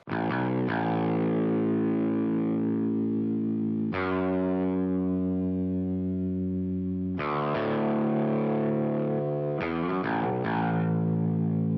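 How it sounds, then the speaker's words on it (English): A baritone electric guitar, distorted, plays a layer on a pop country chorus, holding long ringing low chords that sustain for several seconds before each new strike, close and full throughout. "The second guitar is a baritone layer,"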